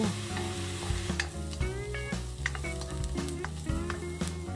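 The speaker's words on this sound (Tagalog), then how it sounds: "simulan na mabangong paggisa ng bawang, at sibuyas. Gisahin lang maigi hanggang sa madurog ang mga ito." Garlic and onion sauté in hot oil in a pan, a continuous crackling sizzle with frequent scraping stir strokes and light clinks, close and steady without speech.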